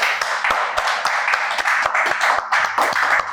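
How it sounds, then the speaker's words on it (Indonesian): Audience applause from a podcast studio crowd, dense sharp hand claps running steadily throughout with no talking over them. "tepuk tangan sekali lagi untuk Mbak Din"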